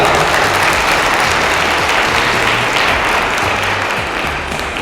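Sustained, loud applause from a large audience at a Hindu Samajotsava community event in Sidedahalli, dense clapping filling the space without pause before gradually easing slightly at the end.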